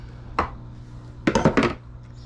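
A can of evaporated milk is shaken by hand: one sharp knock, a pause, then a quick cluster of four or five close rattling jolts, alone and fairly loud in a quiet kitchen.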